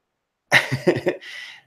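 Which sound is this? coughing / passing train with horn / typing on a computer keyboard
coughing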